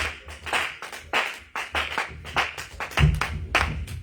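Church congregation at a spiritual-warfare mountain retreat clapping and acclaiming Jesus, a steady run of loud, rhythmic hand claps roughly every half second, with crowd noise and shouting swelling beneath and a heavier burst near the end.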